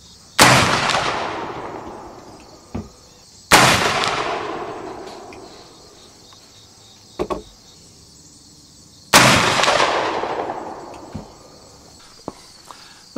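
An 1859 Sharps rifle firing linen cartridges booms three times, loud and close, each sharp blast trailing off in a long echoing decay, with faint handling clicks between shots.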